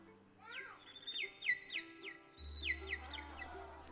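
A human voice imitates a bird at a folk festival stage, a run of quick high chirps and tweets in a lively rhythm, fairly close over a low background hum.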